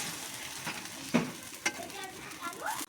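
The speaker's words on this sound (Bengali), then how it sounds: "তো ঝোলটা এখন আর একটু ফুটতে থাকবে।" Bhola fish curry gravy simmering in a pot, a steady soft bubbling hiss with a few louder pops and utensil touches over about three seconds, fairly close and moderate in level, no voices.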